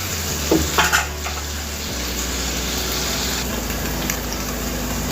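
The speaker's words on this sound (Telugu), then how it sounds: "మనము ఇది గోల్డ్ బ్రౌన్ కలర్ వచ్చే వరకు వేయించుకోవాలి" Paneer frying in a pan for fried rice gives a steady, close sizzle that holds evenly throughout, with a few brief clatters of stirring near the start.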